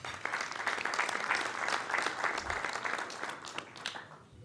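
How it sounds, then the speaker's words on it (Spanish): An audience at a Rotary luncheon with ambassadors applauds to welcome a speaker, a moderate crowd clapping steadily and fading toward the end, heard from within the room. "licenciado José Octavio Bordón, a quien también recibimos con un aplauso."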